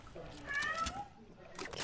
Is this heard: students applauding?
no